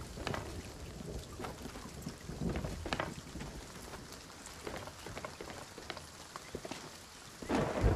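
A thunderstorm at sea in the pirate game Sea of Thieves: steady rain pours down with repeated thunder cracks and rumbles, growing louder toward the end, with no talking over it.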